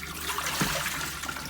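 Water from a container is dumped out in a steady, close pouring and splashing rush that swells briefly partway through.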